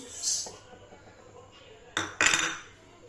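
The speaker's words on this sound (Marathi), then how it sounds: "तर तीळ आपण भाजून घेऊ कढईमध्ये" Sesame seeds roasting in a kadhai for besan vadi curry, with scraping and clinking of a metal spoon against the pan, including two louder bursts near the end.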